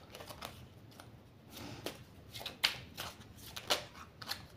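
An oracle card deck is cut and shuffled close by, with soft riffling and a few sharp snapping card taps at a quiet level.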